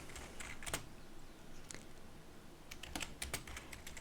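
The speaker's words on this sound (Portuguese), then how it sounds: "vamos vir aqui e digitar" Typing on a computer keyboard in a cartonnage graphics lesson, with scattered clicks early, then a rapid run of keystrokes near the end, close but quiet over a faint steady background hiss, with no voices.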